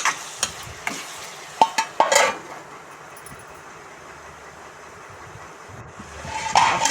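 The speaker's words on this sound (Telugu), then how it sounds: "ఆ ఉల్లిపాయ ముక్కల్లో మామిడికాయ ముక్కలు కూడా వేసి కొంచెం సేపు మగ్గపెట్టుకుంటే తొందరగా కరుగుతుంది" Onion and mango pieces softening in a pan, giving a quiet, steady sizzle with a few sharp stirring clatters near the start and again at the end.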